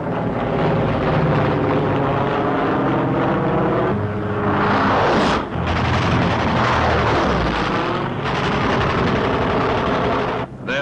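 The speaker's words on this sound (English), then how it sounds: "the Thunderbolts peel off to intercept, to protect their bombers" WW2 P-47 Thunderbolt fighter plane engines roar loudly and continuously, with a swelling pass and sudden cut-offs amid steady droning and possible gunfire.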